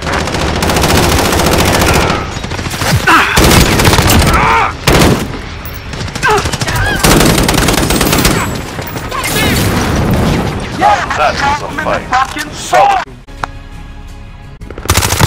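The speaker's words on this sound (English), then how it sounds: "We're taking fire." Gunfire in Call of Duty: Modern Warfare, with loud, dense bursts of automatic weapon fire in rapid volleys, occasional heavier booms and brief lulls, and in-game voices calling out under the shooting.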